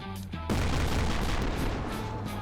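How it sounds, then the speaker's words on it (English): A heavy 75mm autocannon fires at a tank in Garry's Mod: a loud, sudden blast that cuts in after a brief quieter moment, followed by a sustained rumbling, crackling roar. "It's 75mm autocannon. It's pretty heavy."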